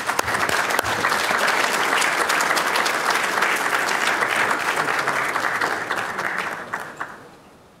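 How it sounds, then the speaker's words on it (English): An audience gives a big round of applause during a live stream event, steady and full for several seconds, then tapering off toward the end. "I think they deserve a big round of applause at this point."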